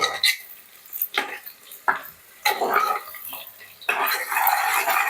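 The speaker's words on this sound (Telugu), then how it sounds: "ఇప్పుడు ఇందులోనే 2 పచ్చిమిరపకాయలు చీలికలు వేద్దాం. బ్రౌన్ కలర్ వచ్చే వరకు వేయించుకుందాం." Onions and slit green chillies fry in a pan for a Telugu country chicken curry, crackling and sizzling up close while a spatula scrapes and stirs in several bursts, each stroke followed by a hiss.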